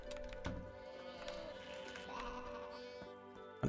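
A sheep bleats in the farming video game Deiland: a wavering, harmonic cry over soft game background sounds, heard alone without any voice.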